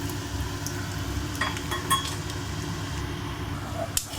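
Peanuts frying in oil in a pan while making poha, a steady close sizzle with a few faint clinks and a sharp tap near the end, no talking.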